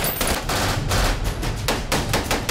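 Gunfire from a gunfight in the action movie Safe House, loud bursts of rapid automatic shots in quick clusters, heard close with no voices.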